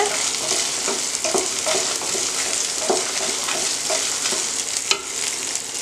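Chilies and onions frying in hot oil with curry leaves for a yellow tomato kulambu, a continuous bright sizzle with regular stirring scrapes and a few sharper clinks, close and steady throughout.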